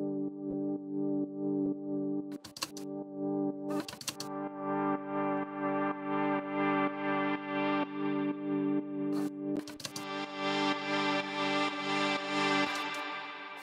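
Sustained Ableton Drift preset synth pad with a filter being automated, the upper harmonics opening and brightening in a slow sweep over a steady layered chord, broken by a few short percussive hits.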